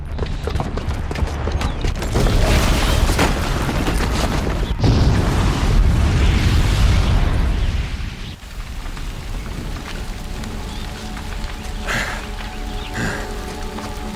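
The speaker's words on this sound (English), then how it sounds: "the booby trap on the bomb downstairs is gonna get set off" A bomb booby trap detonates in Horizon Zero Dawn, a loud sustained roaring blast with rumbling debris, fading after several seconds into a lower, continuing crackle and rumble.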